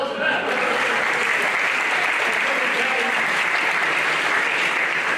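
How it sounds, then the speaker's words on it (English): A hall of fame induction audience claps in a full, even roar that starts abruptly and holds steady for several seconds, with some voices mixed into the clapping. "Let's give a round of applause for that."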